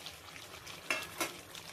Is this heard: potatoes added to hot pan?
yes